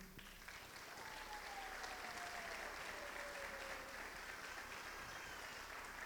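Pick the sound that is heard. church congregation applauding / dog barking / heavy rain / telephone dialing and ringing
church congregation applauding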